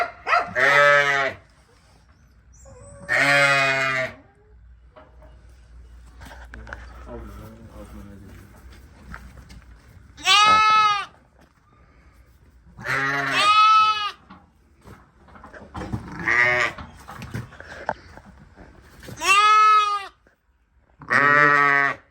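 A newborn male Hissar lamb bleats repeatedly, loud and close, in drawn-out wavering cries spaced a few seconds apart, with faint background noise between calls.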